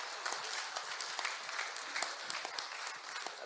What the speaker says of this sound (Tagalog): Isang palakpak nga para kay Senator Larry Gadon.